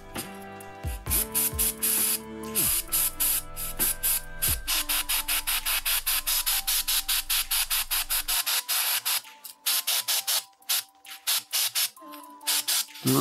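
White paint sprayed from an airbrush or spray can at an angle as a zenithal undercoat on miniatures, a steady hiss broken into many short rapid bursts, close and alone.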